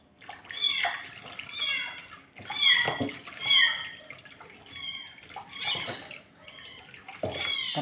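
Kittens meow repeatedly in high, thin cries that come in bursts and overlap one another, close by, with a little background noise between calls.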